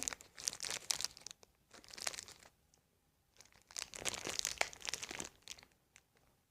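A crinkly plastic snack package of pişmaniye being opened by hand, two bursts of loud close crinkling and crumpling separated by a short quiet pause.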